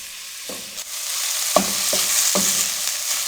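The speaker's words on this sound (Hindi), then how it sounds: "मीडियम फ्लेम पे प्याजों को हम 1 से 2 मिनट के लिए फ्राई कर लेंगे।" Chopped onions sizzle in cooking oil over a medium flame, a steady close fry broken by a few short stirring scrapes.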